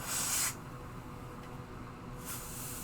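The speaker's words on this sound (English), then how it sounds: "let's put some freeze spray back on there again" Freeze spray hisses onto an iPhone 8 Plus circuit board, a short close burst of spray at the start and another at the end over a quiet background hiss.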